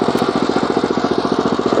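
A Husqvarna TF440 walk-behind tractor's petrol engine runs at low revs, a loud, close, steady chugging throb with an even rapid pulse and no talk.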